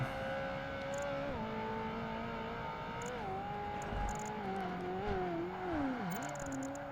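A supercar engine in the Project Gotham Racing 2 racing game, its steady loud drone shifting pitch continuously with revs and gear changes, with no talk over it.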